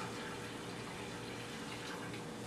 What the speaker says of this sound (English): I'm going to fill it with about 4 cups of water